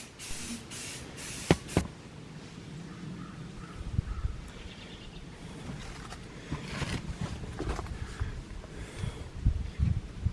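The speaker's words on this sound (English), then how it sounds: "we're just going to go ahead and give this thing a coat of good black paint" Aerosol can spraying high-temperature black paint onto a stove built from a helium tank, short hissing bursts and longer sustained sprays, fairly quiet and close, with faint outdoor background.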